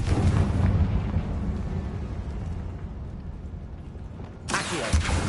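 Blast from the Confringo spell in Hogwarts Legacy, a loud rumbling explosion that decays over several seconds, then a second sharp burst near the end.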